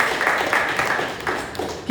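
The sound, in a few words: audience applause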